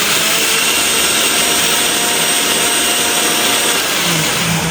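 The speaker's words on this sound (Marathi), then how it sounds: "ॲक्च्युली मसाला गार झाला आणि आता आपण ग्राइंड करून घेऊ." An electric grinder grinds roasted masala spices with a loud, continuous whirring roar that stays even throughout, close up and with no voices.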